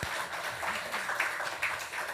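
A church congregation claps after a choir performance in a Sunday worship service. The applause is soft and somewhat distant, a brief wash of scattered clapping that holds fairly even throughout.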